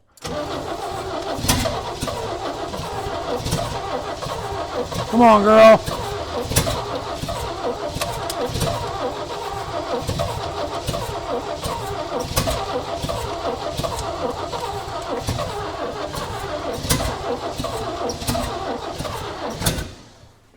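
A 1965 Chevy rollback truck engine runs roughly and loudly up close, smoking heavily as throttle is added. A few surges rise over the steady idle, and a voice briefly encourages it.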